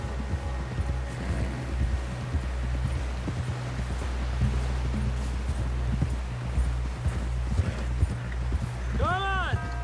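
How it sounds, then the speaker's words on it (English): Galloping hooves pound steadily and close for several seconds under a low rumbling bed, with voices speaking over them and a horse whinnying near the end, in Red Dead Redemption 2. "Someone help John down off this horse"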